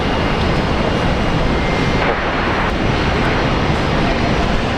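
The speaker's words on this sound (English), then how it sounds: "That was a long takeoff ride." An airliner taking off at Brisbane Airport roars with a loud, dense, sustained jet-engine rumble that stays close and powerful from start to finish.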